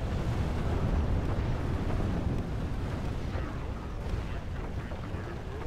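Siege artillery battering castle walls in a Total War Dwarfs battle, a dense continuous roar of distant booms and rumbling impacts that stays steady and loud throughout, with no voices over it.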